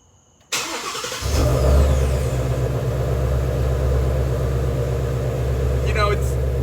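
From inside the cabin, a 2020 Shelby GT350R Heritage Edition engine fires up with a sharp burst, then settles into a deep, steady rumbling idle.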